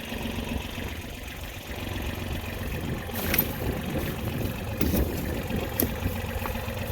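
A farm tractor's engine idles steadily nearby, a continuous low rumbling drone with slight surges and a few faint clanks on top, no talk.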